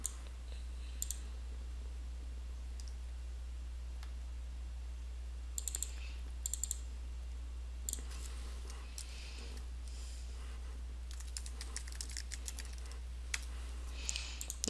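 Computer mouse clicks while images are saved into a folder: sparse, quiet single and double clicks spread irregularly across a steady low electrical hum, growing more frequent toward the end.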